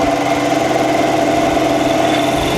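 A vintage milling machine runs steadily, its spinning motor producing a loud, constant hum with a tonal whine layered over a low mechanical drone, with no talk.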